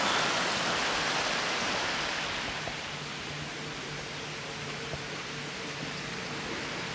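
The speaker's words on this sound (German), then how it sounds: "Nee, Spaß, das ist nicht der Wasserfall. Das ist ein Fluss." A river in the Bavarian countryside near Oy-Mittelberg rushes steadily in a broad, even wash of water noise, slightly louder at first and then settling into a constant flow with no voices.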